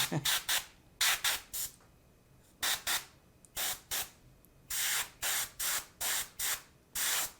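Short bursts of Pro Acryl black aerosol primer spray hiss in quick repeated puffs, some in rapid clusters and others spaced apart, close by.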